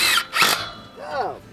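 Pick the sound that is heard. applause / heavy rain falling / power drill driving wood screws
power drill driving wood screws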